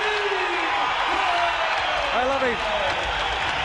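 A big Melbourne crowd at the Glass House, packed with Greek fans at a kickboxing bout, roars and cheers in a steady dense wash while a commentator talks over it.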